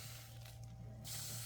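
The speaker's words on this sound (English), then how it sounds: "now I might screw everything up by then spraying it with alcohol" Alcohol sprays from a bottle onto the surface of an epoxy resin river table in a workshop, a soft hiss that swells into a brief burst near the end over a low steady hum.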